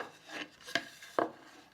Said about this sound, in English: rub it into the wood